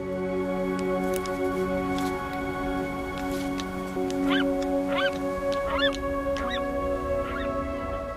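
Seabird colony of albatrosses at an Atlantic nesting site, a steady din of many birds with repeated harsh honking, goose-like calls rising above a dense chattering background, continuous and fairly close.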